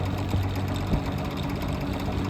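A vintage box fan, a Kmart K-223, Evenflow 2302 or Manning Bowman, runs on high speed at about 2000 RPM, giving a steady, loud, close motor hum and whir with a faint rhythmic flutter throughout.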